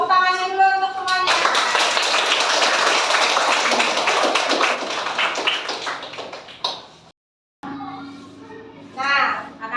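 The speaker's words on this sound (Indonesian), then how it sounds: "Tepuk tangannya dulu untuk semuanya." A classroom of children claps together in a dense, lively burst lasting about five seconds, preceded and followed by a teacher's and kids' voices nearby.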